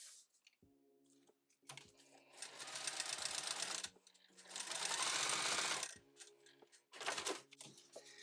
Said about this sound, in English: I can go ahead and sew this. I'm using a short stitch.